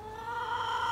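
A chicken in a backyard garden with compost bins gives a drawn-out, nasal clucking call that builds slightly in loudness, close and alone.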